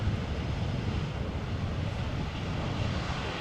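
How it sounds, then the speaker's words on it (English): An Aer Lingus A320 lands and applies reverse thrust, a broad steady rushing roar of engine and wind noise, distant and unbroken throughout. "Little application of reverse thrust there by the Shamrock"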